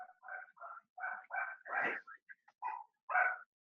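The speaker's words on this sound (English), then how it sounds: "those dogs are going crazy for that PUA in the next room" Dogs bark and yip in a rapid, uneven series of short bursts from an adjoining room, some calls rising into higher whimpering yelps, with brief silences between them.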